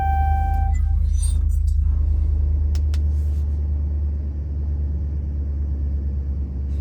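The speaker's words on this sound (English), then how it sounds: "So press the brake and start your vehicle to get to the next step." A Dodge, Jeep or Chrysler vehicle engine idles with a steady, loud low rumble throughout, after a brief start-up with electronic chimes and a couple of clicks near the beginning.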